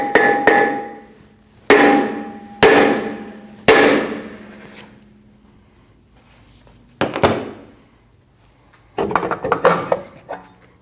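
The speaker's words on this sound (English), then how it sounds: "you can hit the rotor on the front side with a metal hammer" Metal hammer striking a brake rotor on a 2012-2021 Nissan NV2500 to knock it loose: four sharp ringing metallic clangs a second apart, a pause, then more blows and a quick flurry of lighter taps, close and loud.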